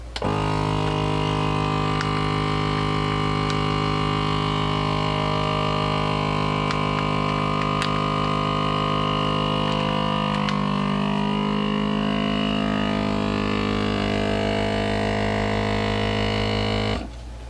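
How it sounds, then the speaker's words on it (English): A vacuum sealer packing a bag of processed chicken pumps with a loud, steady electric motor hum and whine for many seconds, its pitch shifting slightly as the air draws out before the motor cuts off near the end. "now you press the vacuum and seal button."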